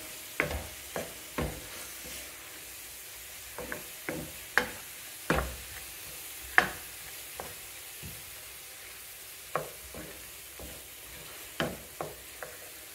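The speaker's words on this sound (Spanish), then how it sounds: "Vamos a revolver." Purslane and cumin stirred in a pot: about twenty sharp spoon knocks and scrapes against the pot, spaced irregularly over a soft background sizzle, fairly close, with no voices.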